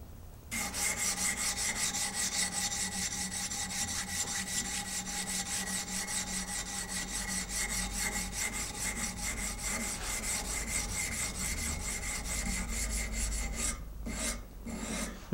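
A knife blade is scrubbed with Scotch-Brite pad while prepping the spine, giving a continuous close, loud rasping rub in rapid back-and-forth strokes that breaks off briefly near the end.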